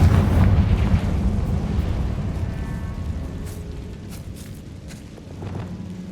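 A Confringo spell explosion in Hogwarts Legacy bursts loud and deep at the start, then rumbles and fades over several seconds with faint debris crackles.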